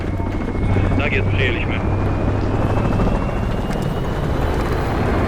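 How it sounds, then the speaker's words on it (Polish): An enemy attack helicopter takes off in Call of Duty Modern Warfare III, a loud, constant rotor and engine roar with wind rushing throughout, while a brief radio voice speaks over it. "Uwaga, wrogi śmigłowiec szturmowy startuje."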